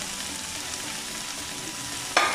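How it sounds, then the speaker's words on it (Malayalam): Chicken filling fries and is stirred in a pan with a steady, bright sizzle throughout. A sudden louder hiss flares up near the end. "എല്ലാവർക്കും മിക്സ് ആവുന്ന രീതിയിൽ ഒന്ന് ഇളക്കി കൊടുക്കാം"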